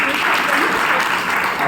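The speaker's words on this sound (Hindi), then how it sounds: "तालियां बजाइए" An audience at a Brahma Kumaris health talk claps steadily, a dense, even burst of applause filling the whole stretch.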